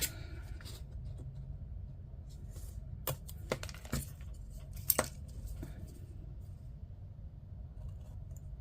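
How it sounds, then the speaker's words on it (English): Craft knife trimming perforated paper for a junk journal, a few sparse, sharp little cuts and scratches close by over a low steady room hum, no talk. "it's just going to be much easier to trim them with the craft knife"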